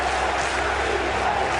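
A stadium crowd at a Patriots football game roars in a defense chant, a loud, dense wash of massed voices without any clear single speaker.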